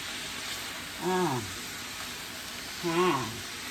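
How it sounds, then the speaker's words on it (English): Seasoning is stirred into cabbage, sausage and shrimp frying in a pan, producing a soft, steady sizzle in the background. Two short spoken phrases sit on top of it. "Just stir it in there. Get it all incorporated."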